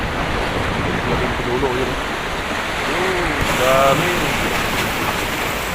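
Big waves roll and crash against the breakwater at Al Mina in Abu Dhabi in bad, windy weather, a constant loud surf and wind roar. Someone talks over it.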